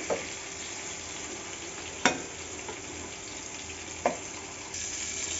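Egg-coated pointed gourd slices fry quietly in a pan, a soft steady sizzle broken by two sharp scraping clacks of a spatula.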